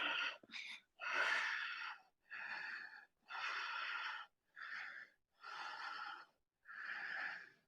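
Deep, forceful breaths taken while holding a yoga inversion such as a headstand or shoulder stand, about eight evenly spaced rushing breaths, close and airy, with brief silences between them and no talking.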